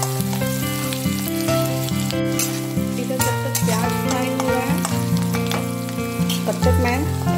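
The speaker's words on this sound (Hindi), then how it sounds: "प्याज को बहुत ही अच्छे से फ्राई एकदम नरम होने तक फ्राई करना है" Onions fry in a pan for a halwai-style parwal curry, with steady sizzling and light stirring sounds, while music plays prominently over the cooking throughout.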